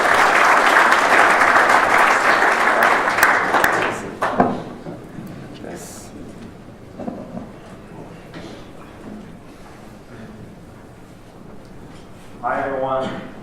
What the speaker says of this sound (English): Welcome on stage. Applause.